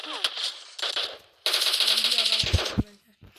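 Rapid bursts of gunfire erupt in several clusters, a loud rattling machine-gun-like stream that dominates before ending in a couple of heavier thumps.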